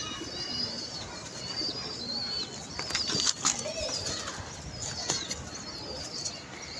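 Pigeons flutter and flap their wings around a rooftop loft, soft bursts of wingbeats mixed with faint cooing and chirps over a steady outdoor hiss.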